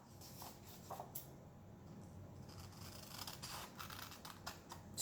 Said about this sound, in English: I'm actually going to take my scissors and just cut a little bit of the excess off